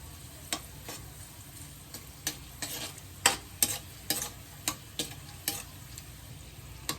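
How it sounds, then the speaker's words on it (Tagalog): Peanuts frying in hot cooking oil with the heat switched off, a steady sizzle and crackle broken by regular sharp stirring scrapes about every half second, close and alone. "Hayaan natin yung init ng mantika ang magluto sa kanya."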